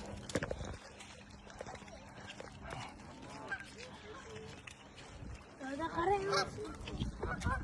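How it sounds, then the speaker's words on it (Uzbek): Geese honk outdoors as they walk toward people, scattered calls rising more clearly near the end, mixed with people talking nearby. "G'ozlar yoqa, bu yoqqa yuryapti odamlarga qarab."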